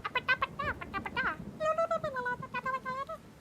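A pet cat meows repeatedly at close range, a rapid run of short chirpy mews followed by longer drawn-out meows, loud and clear with no talking over them.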